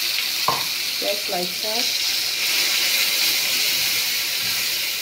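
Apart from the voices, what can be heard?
blended tomatoes sizzling in hot oil with fish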